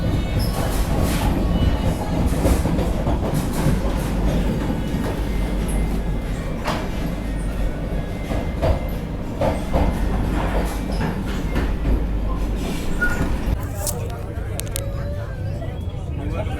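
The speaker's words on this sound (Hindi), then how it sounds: "एकदम ऑन टाइम अपनी ट्रेन निकल रही है अभी बाबूधाम मोतिहारी रेलवे स्टेशन से" A Vande Bharat express leaves Bapudham Motihari station on the Patna–Gorakhpur line, its steady wheel rumble and faint rail clatter running continuously from inside the carriage, with a voice talking over it.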